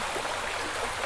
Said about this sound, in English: washing my pots in unclean water